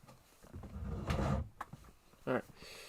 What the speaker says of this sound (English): I need to close this drawer.